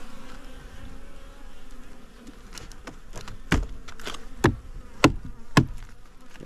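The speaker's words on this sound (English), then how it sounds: "There's a decent amount of bees on this" Honeybees buzzing on a hive frame during a winter hive check, a steady faint drone with several sharp, louder buzzes as individual bees fly close past.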